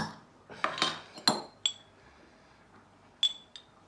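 Metal utensil clinking and scraping against a pan while chicken masala is stirred, a few sharp close clinks in a short burst followed by quieter gaps and two later taps.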